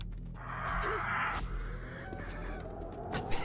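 A turkey gobbles in the video game 7 Days to Die, a faint warbling fowl call over a low hum and other game noise, with a few soft clicks.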